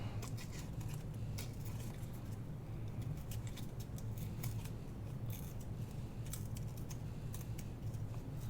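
Paper is fussy-torn by hand for scrapbooking, producing a continuous close, soft rasping and crackling with small irregular ticks for several seconds.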